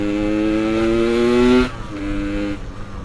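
Close, loud Yamaha RX-King two-stroke motorcycle engine revving on a Jakarta street, a buzzing rise that peaks and drops off abruptly, then settles into a rougher idle.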